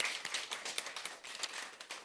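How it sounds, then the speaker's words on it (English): An audience at a school board meeting applauds: a dense, steady patter of many hands clapping at once, fairly faint and distant, lasting throughout without voices on top. "Let us give them all another round of applause."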